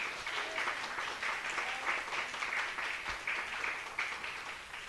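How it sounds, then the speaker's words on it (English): Moderate applause from an audience at a Sunday feast at a Hare Krishna temple in north Atlanta, steady clapping for the whole stretch at a fairly distant, soft level. "Give her a round of applause"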